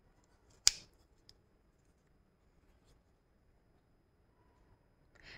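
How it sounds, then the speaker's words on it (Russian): A Viper Start stainless-steel backlock folding knife with bronze washers is flicked open by its thumb stud, giving one sharp metallic click followed by a faint second tick and a soft scrape near the end, otherwise quiet. "Открываем с помощью шпенька право-лево."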